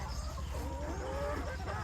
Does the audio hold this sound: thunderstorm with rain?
no